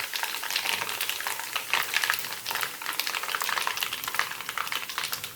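Mustard seeds, cumin and asafoetida sizzle and crackle steadily in hot oil for thin poha chivda, a dense close frying hiss with scattered pops and stirring, no voices.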